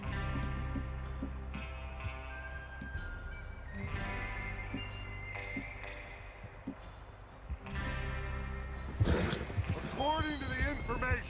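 In the video game Red Dead Redemption 2, a horse neighs near the end over game music and ambient tones, with hooves and a bleating animal faintly heard earlier.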